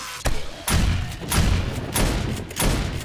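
Five heavy gunshots ring out in the 7 Days to Die Ravenhearst game at roughly even intervals. Each is a sharp, booming blast with a short rumbling tail, loud and close.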